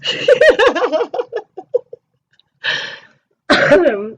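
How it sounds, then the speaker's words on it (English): A burst of coughing, several rapid harsh coughs trailing off, then two more separate coughing fits after a short pause, close and loud. "I still have a cough"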